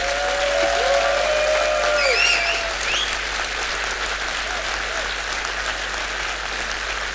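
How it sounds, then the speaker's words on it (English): A crowd at a tech meetup applauds its presenter, a loud, continuous wash of clapping with a few whistles and cheers rising over it, easing slightly toward the end. "I wanna ask this crowd here to give a cheer to our amazing presenter today."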